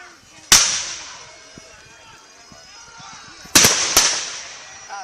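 Black-powder guns fired at a historical reenactment rendezvous, three sharp loud reports, one early and two close together near the end, each leaving a ringing echo, with faint background sounds between shots.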